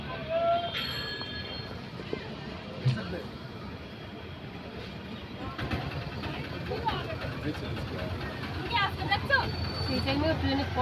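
A crowded passenger train rolls along with a steady low rumble and occasional wheel squeal, while people talk nearby over the running noise.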